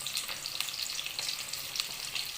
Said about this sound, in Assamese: মই কাটি লোৱা পিঁয়াজখিনি মই ইয়াত দি লৈছোঁ।